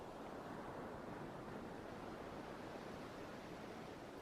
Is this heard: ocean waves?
yes